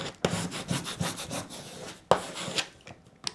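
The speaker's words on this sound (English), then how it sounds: "Now I'm going to add my transfer tape, just like that. And burnish this down." Transfer tape being burnished down onto cut vinyl, a series of close, soft scraping rubs in irregular strokes with two sharper scrapes, quiet and alone.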